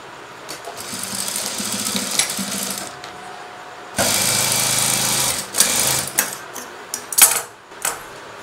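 A sewing machine runs in bursts while stitching the shoulder seam of a cross-cut blouse, with two longer whirring runs and a few short stops and starts, close and fairly loud.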